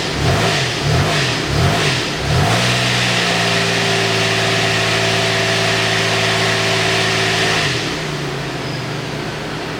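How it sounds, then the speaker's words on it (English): A car engine, under test while an intermittent fault is diagnosed, revs hard in a few quick blips, then holds a high steady roar before dropping back to a lower idle, loud and close with no speech. "every time I accelerate the engine hard"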